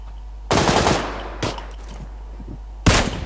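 Gunfire in the video game PUBG Lite: three loud, sharp bursts of shots, one long, one short and one at the end, with quiet gaps between them.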